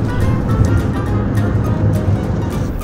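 Black Sea surf rolling onto the shore at Batumi, Georgia, a steady loud wash of waves with gusty wind noise throughout, no speech.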